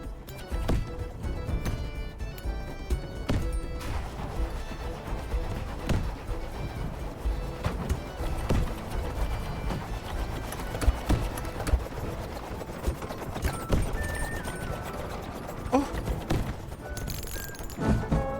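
Horses gallop in the video game Wanderburg, a steady clip-clop of hooves running through a dense, busy mix of game sound effects and music that continues throughout.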